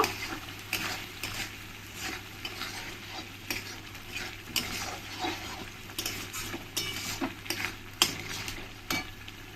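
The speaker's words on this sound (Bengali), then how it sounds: "দিয়ে ভালো করে আমি মশলার সঙ্গে মিশিয়ে নেব" Chili powder is stirred into frying chicken masala in a pan, giving a steady low sizzle broken by repeated scraping and spoon strokes, close and continuous.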